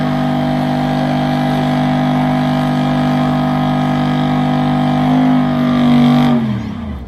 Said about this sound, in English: Alrighty, he's burning them out.